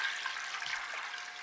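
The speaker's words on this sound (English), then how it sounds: "remember our beans had 2 cups of water soaking in the refrigerator, and I'm going to add another 2 cups to this" Water pours into a pot of soaking beans in a steady close stream, short and alone, with no voices.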